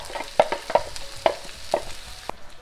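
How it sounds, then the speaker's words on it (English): Garlic, red chilies and food-processed onion going into a hot frying pan, giving a steady sizzle broken by several sharp stirring clicks and scrapes, close and moderately loud. "add the garlic, the red chilies, and the onion that I processed in my food processor"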